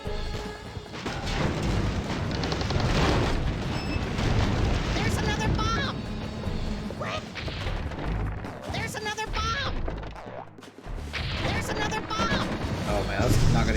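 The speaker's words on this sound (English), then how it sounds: "There's another bomb!" Repeated bomb blasts and crashing booms from the Kao the Kangaroo: Round 2 platformer on PC, loud and dense over busy game music and effects, with a brief dip in the middle.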